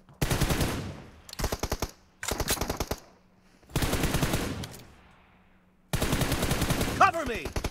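Automatic gunfire from the mobile battle-royale game PUBG Mobile, heard in several loud, rapid bursts separated by short pauses, close and dominant, with a faint tone between volleys.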